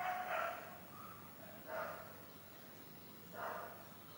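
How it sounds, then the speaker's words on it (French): Dogs barking outside, heard faintly at a distance as three spaced, muffled barks over a quiet background. "Des chiens qui aboient, j'espère que vous les entendez pas"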